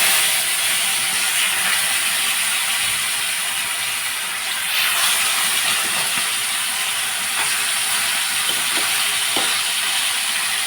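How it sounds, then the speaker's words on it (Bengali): Fish frying in hot oil, the remaining three fish of a batch for a Bengali koi fish curry, giving a steady close sizzling hiss that runs unbroken throughout with a few faint clinks, no voices. "বাকি 3টে মাছও আমি ভেজে নিচ্ছি।"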